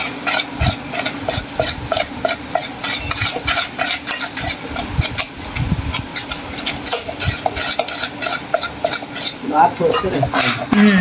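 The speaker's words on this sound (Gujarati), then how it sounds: "પહેલાં ઈનો નાખી અને આપણે આ બેટરને છે ને આપણે સારી રીતે હલાવી મિક્સ કરી લઈશું" Dhokla batter being stirred vigorously after Eno is added: a fast, continuous run of rhythmic wet scraping strokes of a spoon against a bowl, loud and close, steady throughout with occasional clinks.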